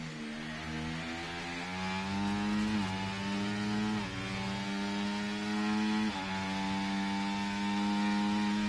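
A McLaren race car's engine screams around a track in a racing video game, a loud steady whine that climbs in pitch, dips briefly at each gear change and climbs again, with no one speaking.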